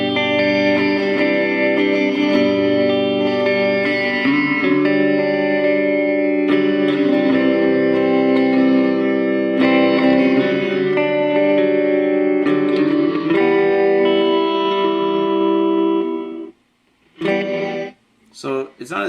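An electric guitar plays a long, continuous chord passage through a Digitech Digiverb pedal with gated reverb and the mix raised, so the dry tone blends with the effect. It stops abruptly near the end, followed by a few short stabs.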